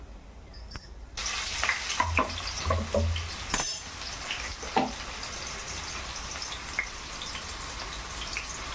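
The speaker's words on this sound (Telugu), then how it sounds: "ఇవి మొత్తం ఫ్రై అయ్యేంత వరకు ఫ్రై చేసుకోవాలి" Chana dal, cumin, mustard seeds and broken dried red chillies frying in hot oil for cauliflower fry, a steady close sizzle with occasional sharp pops and spatula scrapes, and no voices.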